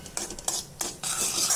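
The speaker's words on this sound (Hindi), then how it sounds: "मैदे को अच्छे से हमें सेक लेना है 2 मिनट।" Flour being stirred and roasted in melted butter in a pan, a spoon scraping and clinking against the metal in quick bursts over a soft sizzle, close and fairly quiet.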